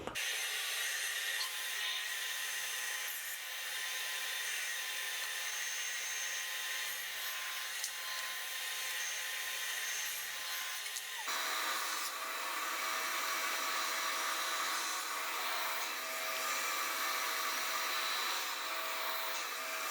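A power saw cuts wood pieces for kitchen island columns, a steady loud whining drone running throughout with a shift in pitch and texture partway through as the cut changes, no talking.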